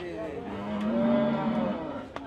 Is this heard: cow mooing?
yes